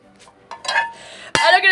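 Metal pots and pans clang and clink together in a few bright, ringing hits. They build to a louder clatter at the end, with some voice-like sound mixed in.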